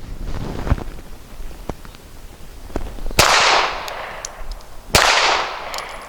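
Two sharp pistol shots from a Sky pistol firing ARX light ammo outdoors, sharp cracks a couple of seconds apart, each followed by a short trailing echo, with wind noise and softer handling clicks in between.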